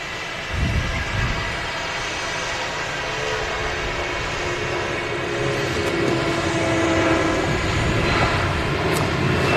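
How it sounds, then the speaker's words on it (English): A Jet2 Boeing 757 takes off at Manchester Airport, its engines a broad, distant roar that gradually swells in loudness over several seconds, with no voices. "Jet2 Alpha Charlie is, well, Alpha Charlie 757 now on the roll."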